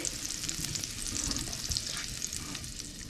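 Prawns frying in hot oil for a Bengali spinach-prawn curry, a dense, even sizzle with soft crackling and light stirring, close and continuous throughout.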